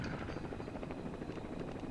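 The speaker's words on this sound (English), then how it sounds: "you see Gruber's helicopter, and obviously that goes away no matter how fast you get in there" A helicopter flies away in the Die Hard: Vendetta video game. Its rotor makes a steady, continuous chopping drone throughout, moderately loud, with no talking.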